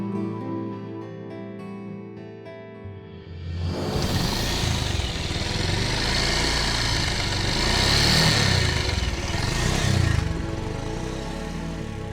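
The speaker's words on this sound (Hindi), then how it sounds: "आपने वो बाइक की आवाज सुनी?" A motorcycle engine starts up and runs steadily with a loud, rough drone, swelling and easing slightly as it revs nearby.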